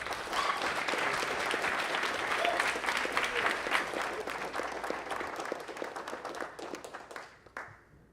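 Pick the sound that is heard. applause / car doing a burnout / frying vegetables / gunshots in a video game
applause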